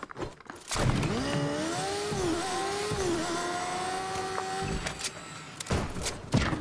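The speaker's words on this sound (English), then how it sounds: "Somebody's driving it, and they don't know how to drive it" A vehicle driven clumsily in Fortnite hums with a steady engine drone whose pitch climbs and dips as it revs, loud and sustained, then breaks off into scattered thumps near the end.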